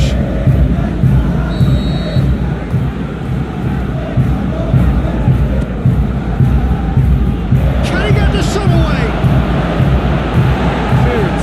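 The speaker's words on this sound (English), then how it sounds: "at least the crowd are appreciative of his efforts" Stadium crowd noise in a football video game, a steady dense roar of cheering that holds throughout with a commentator's voice speaking over it.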